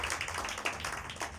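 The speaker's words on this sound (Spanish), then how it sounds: "Denle un aplauso a Cristo Jesús" A church congregation applauds, many hands clapping in quick overlapping bursts, fairly quiet and blended into a steady patter.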